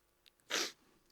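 A single close human sneeze, a short, sharp burst of breathy noise after a faint inhale, in an otherwise quiet space.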